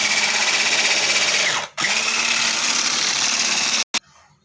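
An electric blender whirs loudly and steadily while mixing burger sauce made with sauce and chili, cutting out briefly partway through, then running again before stopping abruptly.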